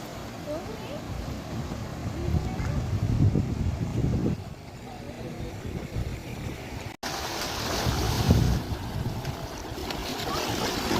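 Ocean waves wash onto Nilwella blue beach in a continuous surging rush, with heavy wind buffeting the microphone and swells rising and falling over several seconds.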